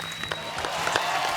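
Audience applause at a musical night welcoming a singer to the stage, a steady wash of crowd clapping with scattered louder claps, fairly close and continuous.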